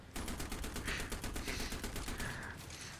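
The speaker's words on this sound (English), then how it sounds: "I should change the torpedo launching sound from that like shinking sound to yeet" Torpedoes launching in a video game as a rapid, evenly spaced train of sharp bursts, loud and sustained for about three seconds, with no talking over it.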